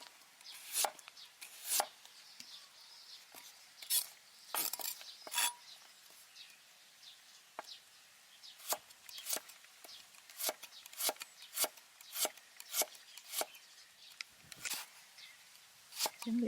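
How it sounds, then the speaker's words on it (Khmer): A knife chops carrots on a cutting board for steamed cabbage, sending sharp, quiet taps at an uneven pace that speeds into a quick run of cuts in a hushed kitchen. "យើងហាន់វាតូចហ្នឹងទៅ"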